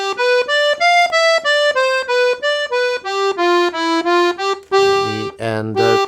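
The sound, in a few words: piano accordion playing a Brazilian forró melody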